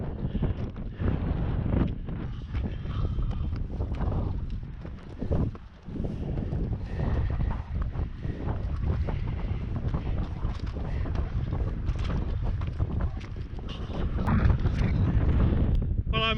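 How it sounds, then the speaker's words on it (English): Strong wind buffets the microphone outdoors during a solo sailing trip along the Australian coast, a steady roar across the whole stretch that swells louder near the end, with a voice mixed in at moments. "the wind is blowing this way"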